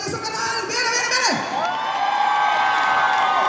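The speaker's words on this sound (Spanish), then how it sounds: "Fuerte el aplauso por este maravilloso canal." A crowd at an anniversary concert show cheers and whoops, with shouts rising over a sustained roar and scattered applause, loud and continuous while music plays underneath.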